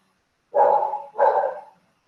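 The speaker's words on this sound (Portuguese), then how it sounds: "O cachorro tá só latindo aqui em casa." A dog at home barks twice in close succession, two loud, rounded barks roughly half a second apart, with no one speaking over them.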